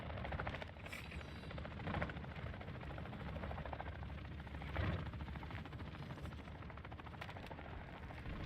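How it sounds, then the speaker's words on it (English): A helicopter in the video game DMZ thrums with a steady low rotor drone that fills the scene continuously, with faint distant gunfire mixed in. "That helicopter's gonna mask my climb."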